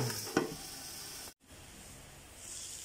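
A pork chop sizzles on a grill with a steady, close hiss of frying fat, a brief clatter early on and a momentary dropout midway, with no talking.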